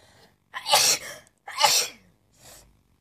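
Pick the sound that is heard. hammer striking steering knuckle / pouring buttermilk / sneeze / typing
sneeze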